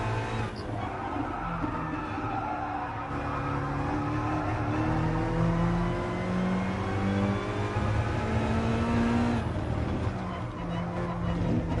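Car engine revving at full throttle on a Spanish driving-practice circuit, a sustained loud roar that climbs in pitch through several gear changes, with tyre noise underneath.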